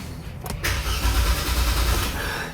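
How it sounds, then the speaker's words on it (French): A Hyundai Kona, abandoned and bought at auction, cranks close by with a steady churning starter, and its engine coughs but does not catch, all in a short burst with no voices. "Le moteur a tourné, toussé, presque, mais n'a pas démarré."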